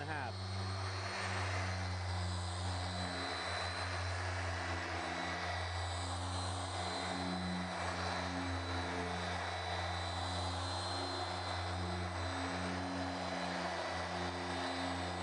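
A Porter Cable 7424XP dual action polisher runs with a steady, loud mechanical drone and constant whirring hum throughout, spinning without strain while detailing a car.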